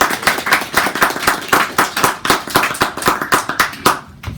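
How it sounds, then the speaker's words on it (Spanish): Close, crisp clapping for a lecture panel, a steady run of sharp individual hand claps in a quick rhythm from a small audience, tapering off and stopping near the end. "Un aplauso, por favor, a la mesa."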